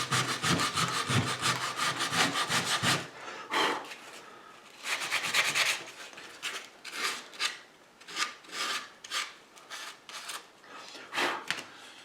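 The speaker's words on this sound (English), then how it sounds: "I'll just do a little bit, quite a bit more sanding" Wood on a model ship hull is sanded by hand, with quick scraping strokes in steady bursts, close and fairly quiet, pausing and resuming with gaps of near silence.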